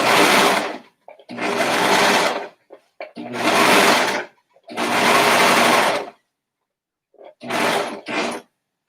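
A sewing machine stitches a baby swaddle in five loud, close bursts of rapid whirring, the last one shorter, separated by brief silent pauses.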